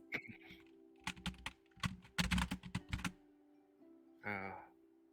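Typing on a computer keyboard, bursts of quick close key clicks in irregular clusters, followed by a brief voice.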